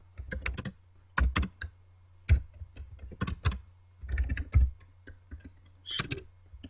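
Code being typed on a computer keyboard, close crisp keystrokes in quick bursts separated by short pauses, with no voices.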